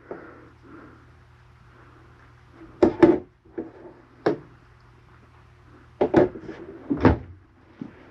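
Drawers and cabinet doors in a 2023 Jayco Alante 29F motorhome bang open and shut in several sharp wooden knocks, some in quick pairs, close by over a low steady hum.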